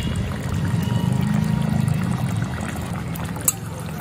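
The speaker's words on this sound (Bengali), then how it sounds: "আর আমি 1/2 চামচ গরম মশলা বাটা জলে গুলে দিয়েছি, সেই গরম মশলা আমি দিয়ে দেবো।" Garam masala paste mixed in water is poured into a simmering bhetki fish kalia, making a soft, continuous pouring and trickling sound over low background noise, with a small clink near the end.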